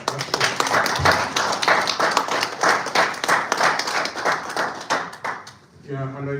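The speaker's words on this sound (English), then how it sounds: "So when it is time to applaud, let's applaud." Conference audience claps in a dense, steady burst of applause lasting several seconds, loud and close, fading out toward the end as a voice briefly starts speaking.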